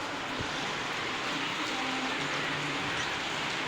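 Steady rain falls around a house as a constant, dense hiss of drops, close and even, with a faint low hum underneath and no voices.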